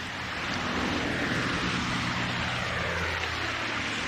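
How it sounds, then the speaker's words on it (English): A propeller aeroplane drones overhead in a remote seaside setting, a steady broad rumble that holds at moderate loudness throughout, with no voices. "That's an aeroplane."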